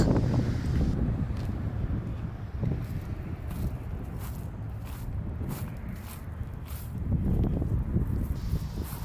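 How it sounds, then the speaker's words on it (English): Strong gusting wind buffets the microphone with low roaring rumbles that swell and ease, loud and close, no speech. "Wow, it is super windy out here."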